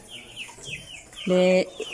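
Three-month-old hens cluck in short, light calls near the listener, with one louder, sustained squawk partway through, over faint background noise.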